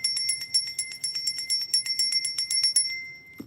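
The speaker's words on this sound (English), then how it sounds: "So we're going to ring this bell and clear the energy today." A small metal bell rung rapidly and continuously, its bright high tone ringing out alone, close and fairly loud, then stopping.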